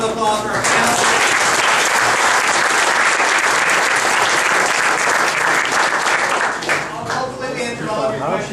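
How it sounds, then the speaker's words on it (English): Loud, sustained audience applause for the panelists at a Mobile Monday Silicon Valley startup legal event, a dense wash of clapping that eases slightly at the end while voices talk over it. "Let's blow a round of applause for our panelists"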